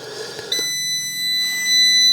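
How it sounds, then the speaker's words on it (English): A car's seatbelt warning sounds as a high, thin electronic tone in short bursts over a steady low hum, close and fairly loud, with no voices. "It'll beep and beep and beep for a little while, then it'll be quiet. That's the seatbelt light that does that."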